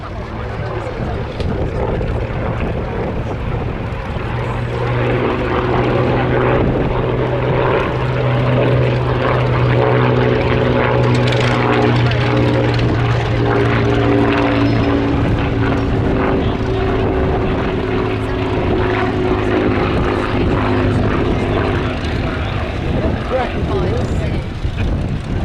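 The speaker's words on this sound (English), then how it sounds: "525 horsepower Kestrel engine by Rolls-Royce" A Hawker biplane powered by a 525 horsepower Rolls-Royce Kestrel engine drones steadily past at a flying display, its propeller hum rising and sustained throughout amid crowd noise and an announcer talking over it.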